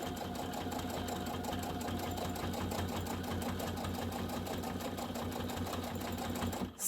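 A sewing machine runs steadily and loud without pause, back stitching over the tab of a snap pouch to reinforce it, its fast needle hum continuous throughout.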